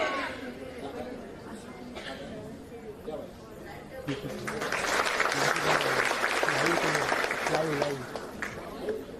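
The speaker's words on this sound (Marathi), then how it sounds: "सगळ्यांच्याकडून एक जोरदार टाळ्या होऊन जाते।" Audience applause at a women's rally in Sindhudurg, rising into a loud, sustained burst of clapping from a large crowd over murmuring chatter and voices.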